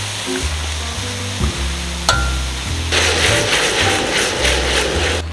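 Whelks fry in butter in a pan at a winter campsite, with a steady close sizzle, several sharp clinks and scrapes of a utensil, and the frying growing louder and hissier toward the end.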